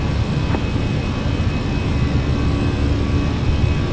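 Airliner jet engines spooling for takeoff in a flight simulator game, a steady, loud, broadband roar with a low rumble, unbroken and without talk.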